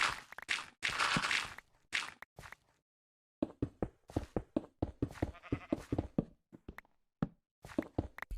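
Sheep bleat in a video game, several wavering calls near the start, then a run of soft tapping footstep sounds with more faint bleats mixed in.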